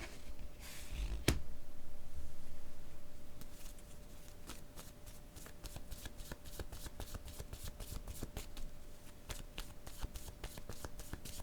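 Playing cards shuffled for a tarot-style reading, a dense riffle burst early on followed by a steady run of crisp, close snapping flicks as cards are cut and laid down, with no talking.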